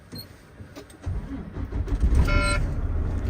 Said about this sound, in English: Now I'm going to start the truck and do a second cutout.